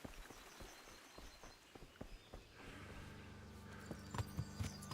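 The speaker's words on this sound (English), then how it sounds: "Where did I put my horse?" Horse hooves in the video game Kingdom Come 2 clip-clop at a steady walking pace, then a low rumbling tone swells in beneath them as the steps continue.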